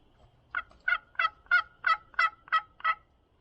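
An old Lynch wooden box turkey call, nearly 40 years old, worked by hand to imitate a turkey, giving eight evenly spaced raspy yelps at moderate volume, close up with no talking.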